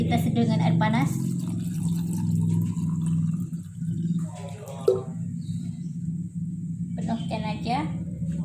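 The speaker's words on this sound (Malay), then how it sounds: "tuangkan air panas ini, kita seduh dengan air panas" Hot water being poured into a cup to brew a drink, a steady liquid trickle and fill sound running throughout, partly under a person talking.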